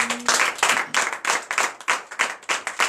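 A church congregation at a night deliverance service in Benin claps in rhythmic acclamation, a series of sharp, evenly spaced bursts of many hands, fairly close and lively.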